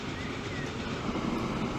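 A steel-hauling train in the Transport Fever 2 game rolls along at speed, giving a steady, full-bodied rumble and rush with no breaks, close and continuous throughout.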